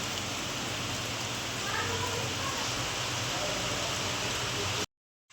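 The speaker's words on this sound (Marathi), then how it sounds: "आता नेमकं पोरांच्या शाळेत जायच्या टायमाला मोठा पाऊस चालू झाला आहे" Heavy rain falls steadily in a dense, even hiss close by, continuing unbroken until an abrupt cut near the end.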